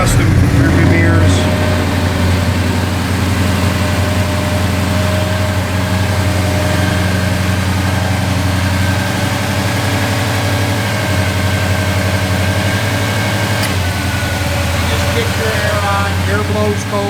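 A 1955 Chevrolet 3100 pickup truck engine idles steadily and close by, a low, even rumble with a constant drone running throughout, with no voices over it.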